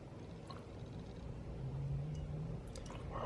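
Water poured into a single-serve Duncan Hines brownie muffin mix, a quiet short trickle with soft wet squishing and drips, close and faint, with no talk.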